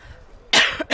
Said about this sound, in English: I can feel the cough starting